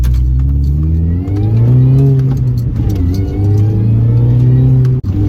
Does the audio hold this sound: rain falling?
no